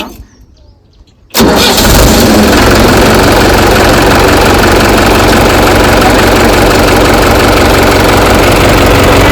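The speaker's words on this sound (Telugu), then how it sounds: "ఇంజిన్ స్టార్ట్ అయింది కదా" A tractor engine cranks and catches with a sudden loud roar after a quiet start, then settles into a steady, dense idle that stays close and constant.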